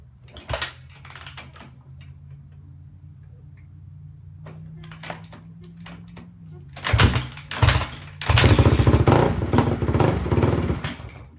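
A Honda CRF250R dirt bike engine idles roughly, then dies out. Loud bursts of revving and mechanical clatter follow near the end, with a voice speaking briefly in between.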